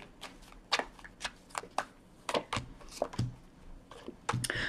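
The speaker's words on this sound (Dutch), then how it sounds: "Dus de kaarten schudden om te kijken wat week 28 voor de leeuw gaat brengen." Tarot cards are shuffled by hand in a string of quick riffling bursts, close and crisp, with a brief pause between each, during a weekly horoscope reading for Leo.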